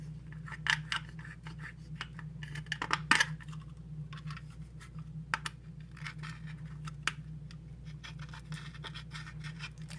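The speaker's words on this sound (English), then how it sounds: "First, let's try and scratch the screen." A razor blade is dragged across an iPhone 4S screen with full force, making short, sharp scratching scrapes that come in scattered bursts over a low steady hum.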